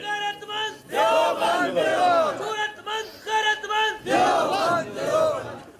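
A large crowd at a religious gathering chants religious slogans in unison, in loud rhythmic bursts of shouted voices with brief pauses between the calls.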